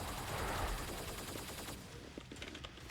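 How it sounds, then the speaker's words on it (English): Helios rifle firing in Killing Floor 2, heard as a dense, continuous roar of rapid gunfire that cuts off partway through, leaving a few faint scattered impacts. "The Helios rifle."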